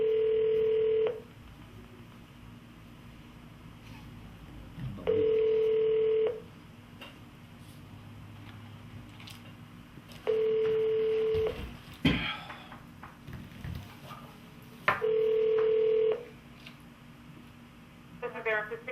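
Telephone ringback on an outgoing call, a steady tone pulsing in regular bursts about every five seconds, with brief clicks and line noise in between and faint voices in the background.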